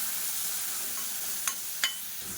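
Chili, garlic and shallots sauté over a medium flame, a steady broadband sizzle with two sharp spoon-scrapes or stirs against the pan near the end; no talking.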